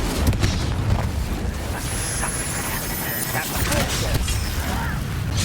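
An Incendio fire spell cast during Hogwarts Legacy combat bursts into dense roaring whooshes and booms that keep going under continuous game sounds and spoken voices.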